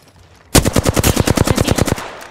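Rapid automatic gunfire in the video game Apex Legends: a loud burst of about fifteen evenly spaced shots lasting around a second and a half, followed by a short fading tail, with no talk.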